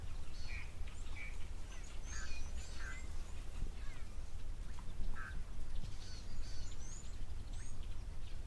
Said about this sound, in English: There's a grey go-away bird calling.